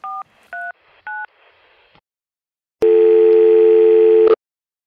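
A telephone keypad sounds three short dual-tone beeps during dialing, then after a brief pause a loud steady ringback tone for about a second and a half, with no voices.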